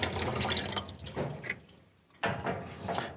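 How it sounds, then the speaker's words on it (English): Tap water running through the suction tube of a Wagner HVLP paint sprayer during cleaning, a close, splashing flow into a sink that cuts out briefly near the middle, then resumes. "You can turn the tap on, it projects that water through the suction tube until it starts to show it's clean coming out of the bottom."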